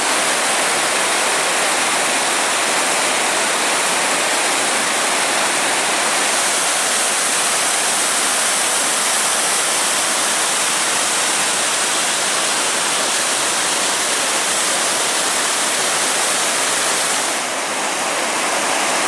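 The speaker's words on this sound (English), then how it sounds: "This cascading river is really neat. The power of water is amazing." Steady, loud rushing water roars without a break, a dense churning wash of a cascading river tumbling over a small waterfall on a hiking trail, close by and continuous.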